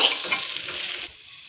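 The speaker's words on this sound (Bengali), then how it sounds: "এবার সবগুলিকে ভালোভাবে মিশিয়ে 1 থেকে 2 মিনিটের মতো আবারও চালগুলির সাথে ভেজে নেব।" Rice stir-fried in a pan with cashews and raisins for carrot pulao, a close sizzle with brisk stirring scrapes lasting about a second before dropping to quiet.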